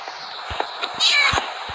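Cat meowing in the video game Minecraft, one short, fairly loud meow in the middle, with thumps and a voice talking around it.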